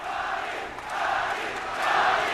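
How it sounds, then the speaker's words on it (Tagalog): A boxing arena crowd roars after a knockout in Manny Pacquiao's fight against Narongrit Piriang, a sustained, loud wall of cheering that swells in waves and builds toward the end. "And listen to that crowd, Kinito"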